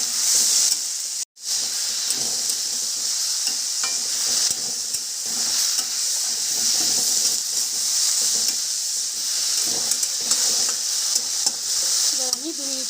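Red amaranth leaves with salt fry in a pan on a gas stove, giving a loud continuous sizzle and hiss, with scraping stirs and clatters of the utensil throughout.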